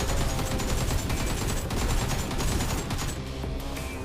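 Dense, continuous gunfire from the video game Survive and Rise, rapid overlapping shots forming a loud unbroken barrage throughout.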